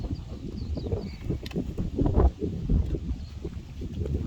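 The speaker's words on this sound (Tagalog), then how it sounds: "Mahangin." Gusty wind buffets the microphone outdoors around a racing-pigeon loft, producing a rumbling, uneven low roar that swells and dips throughout with no clear speech.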